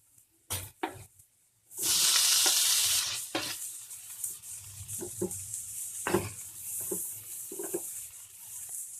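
Chopped tomatoes tipped into a hot pan for masala macaroni pasta burst into a loud, hissing sizzle lasting over a second, then settle into a quieter fry with scattered clinks and taps of utensils.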